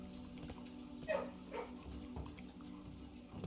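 A puppy in the Blue Prince video game gives a couple of short, faint barks and yips over a steady low hum of background music.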